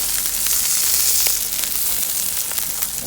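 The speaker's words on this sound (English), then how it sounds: "Throw some onions on there." Onions sizzle on a portable two-burner porcelain gas griddle, a dense, continuous hiss of frying that stays loud and close throughout, with no speech.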